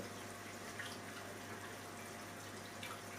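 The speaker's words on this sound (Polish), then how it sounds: "Słuchajcie, pompa pracuje." An aquarium pump runs with continuous water trickling and splashing and a steady mechanical hum underneath, no voices.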